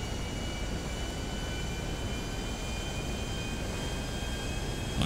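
A HondaJet HA-420's jet engines run at full power in GTA 5, a steady, loud, broadband roar with faint high whining tones held evenly for several seconds, no voices over it.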